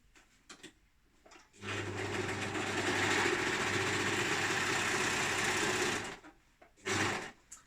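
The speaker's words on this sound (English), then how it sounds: "So rather than just sewing straight across, I then fold again and then sew across." A sewing machine runs in one steady burst of about four seconds, stitching across folded, doubled-over leggings fabric, with brief handling clicks before and after and a short second whir at the end.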